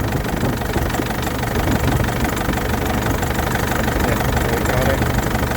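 A Mk5 Ford Transit van engine idles with a steady, rough mid-range rumble and slight knocking, running continuously and close by with no other sounds over it.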